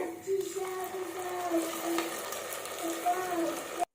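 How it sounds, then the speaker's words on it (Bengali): Tomato paste sizzles and fries in a pan with stirring scrapes, a steady crackle under faint background sounds, close by. "টমেটো পেস্ট করে রাখা এটি ঢেলে ঢেলে দেবো"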